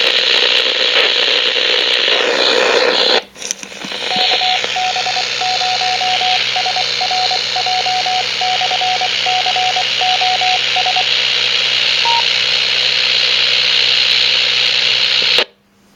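A Radio Shack AM/FM weather radio tuned to a Skywarn ham frequency gives off a loud, steady hiss of static. A brief crackle comes early on, then a string of short beeping tones, and the sound cuts off at the end.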